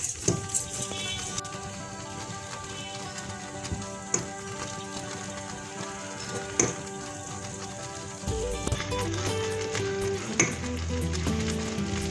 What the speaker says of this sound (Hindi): इसको पकाएंगे जब तक ये चॉकलेट अच्छे से मेल्ट हो जाए